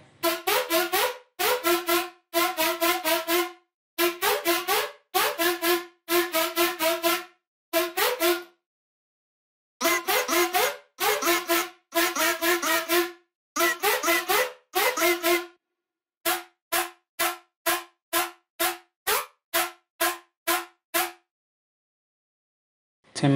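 A bright, buzzy synth lead plays choppy repeated notes in short bursts, then a run of quick staccato stabs near the end, with no voices.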